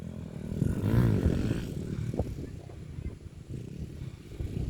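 A big motorcycle engine passes nearby, a rising and falling engine drone with a Doppler sweep peaking early, then fading under nearby background noise and movement.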